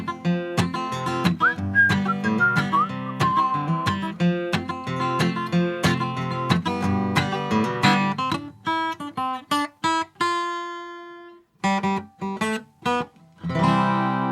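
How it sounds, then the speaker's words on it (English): A tune is whistled over a band playing with mariachi horns and rhythmic accompaniment, the melody clear and upfront before the music breaks into stop-start stabs. "I love a good whistle song."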